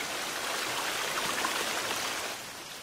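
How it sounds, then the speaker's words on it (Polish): A waterfall in The Forest video game gives a steady, dense rushing hiss of falling water. It is even and moderately loud, easing slightly at the end, with no voices. "Ten wodospad jednak będzie mnie trochę irytował."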